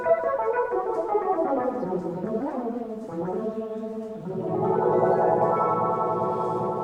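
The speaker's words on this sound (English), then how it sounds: "you can kind of get pseudo short reverb sounds as well." An all-analog Rhodes MK8 effects module turns a tone into short reverb-like, chorused echoes with swooping pitch bends, a warbling dip midway and a fuller sustained wash at the end, loud and alone.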